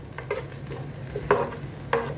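Onions sautéing in a pan for lomi, a steady soft sizzle with a few sharp utensil scrapes and stirring clacks spaced through it, close and alone with no talk.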